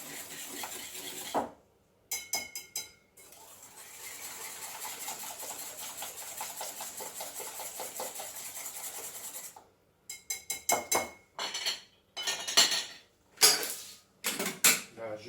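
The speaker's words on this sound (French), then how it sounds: "Donc là je blanchis mes œufs avec le sucre." Eggs and sugar being whisked in a bowl for a grandmother-style rice cake: a long, steady scraping whir of a whisk, then short bursts of rapid whisking separated by brief pauses, close and clear, with no talk.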